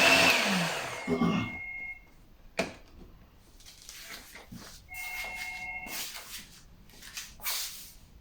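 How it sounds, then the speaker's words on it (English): A blender blitzing butternut squash and carrot soup runs in a loud burst at the start, cuts off, then returns in shorter rough whirring pulses with clatter between them. "So we're going to continue the blitzing"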